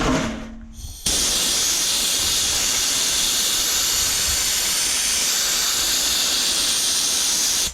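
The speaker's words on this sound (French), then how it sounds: "Donc là on peut sabler, évidemment, hein." A homemade water sandblaster spraying, a loud, steady, close hiss of pressurized jet that starts abruptly after a brief quieter moment and holds constant to the end.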